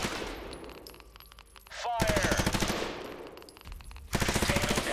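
Rifle fire in the video game USC: Counterforce comes in two loud, rapid automatic bursts of about two seconds and one second, close and sharp, with a short quieter gap between them.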